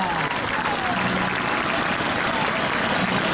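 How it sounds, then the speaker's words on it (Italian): A crowd at the Jesolo European Air Show applauds the Spanish Patrulla Águila aerobatic team, with thick, continuous clapping throughout and some voices mixed into the noise. "Un forte applauso"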